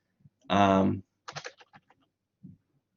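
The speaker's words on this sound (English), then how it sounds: "I'm already almost done typing it into MATLAB" Computer keyboard typing into MATLAB during a lecture: a short burst of several quick keystroke clicks comes just after a brief voiced sound, then a faint tap trails off.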